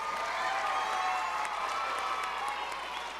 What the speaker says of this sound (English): Let's give Ivan a round of applause, everyone.